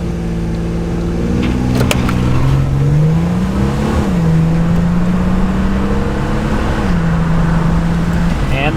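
A GMC Syclone truck launches hard and accelerates to 60, its engine note climbing steadily and loud, with brief dips at gear shifts before rising again.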